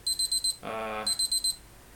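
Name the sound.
alarm going off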